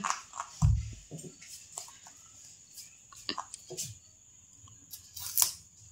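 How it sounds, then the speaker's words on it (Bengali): A dog gnawing on a whole stalk of sugarcane at a home celebration, with irregular crunching, tearing and snapping bites, some sharp and close, spread across the moment. "পুরো একটা আস্ত আগ দিয়েছে ওরা খেতে, আর কামড়াচ্ছে দেখো একটাকে"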